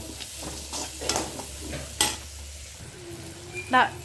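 Cooked white rice is stirred and fried in leftover oil from frying fish, with close sizzling and scraping spoon strokes against the pan, in irregular bursts and no speech.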